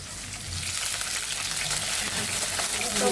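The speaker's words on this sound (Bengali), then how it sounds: "পানি দিয়ে দিই" Water hits a hot frying pan of onions and green chilies, giving a steady close sizzle and bubbling hiss that holds throughout with no talk.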